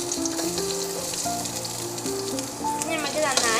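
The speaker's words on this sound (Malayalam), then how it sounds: "അതിലേക്ക് വെളിച്ചെണ്ണ ഒഴിച്ച് നമുക്കതിലേക്ക് ഇഞ്ചി വെളുത്തുള്ളി പേസ്റ്റ് ഇട്ട് കൊടുക്കാം" Ginger garlic paste sizzles in coconut oil with a dense, steady crackle from start to finish. Faint background voices and tones sit underneath the frying.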